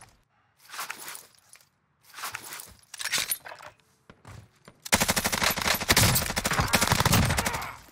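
Rapid automatic gunfire from the Bruen rifle in the battle royale video game Warzone, with scattered bursts early on, then a loud, sustained volley of rapid shots that runs to the end.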